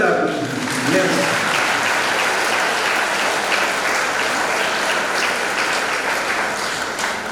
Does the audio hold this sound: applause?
yes